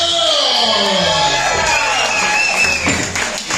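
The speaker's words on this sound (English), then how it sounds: "Miss Corey Brooks, everybody give her a round of applause." Audience cheering and applause at a comedy show, with loud whoops and shouting voices over scattered clapping from a crowd close by.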